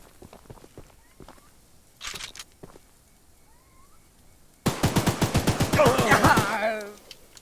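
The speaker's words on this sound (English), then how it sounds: "I know I should be expecting those gunshots, but yet they always get me." Video game gunfire: a burst of rapid, loud automatic shots in a steady rhythm following quieter scattered sounds and faint footsteps.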